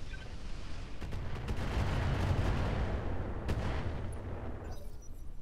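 Incendiary weapons fire in the mech combat game Roguetech, a sustained rumbling barrage of thuds and crackling blasts with sharp reports near one and three and a half seconds, fading toward the end.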